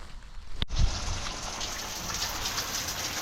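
Water drains out of a garden pool at the end of the season, a continuous rushing splash that follows a sharp knock near the start and then stays steady.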